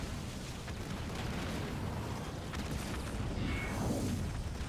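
Anti-air turrets in the strategy game Halo Wars 2 pound away in a dense, continuous barrage of booms and blasts, a steady roaring wall of fire with a descending whoosh near the end, no talk.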